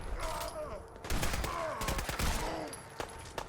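Rapid gunfire in Fallout 4 comes in several close, loud bursts of overlapping shots, with a voice briefly audible in the mix.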